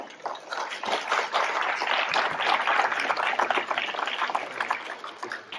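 Guests at a town social-services lunch in Sérent applaud the oldest diners, a lively patter of many hands rising quickly and holding steady, moderately near.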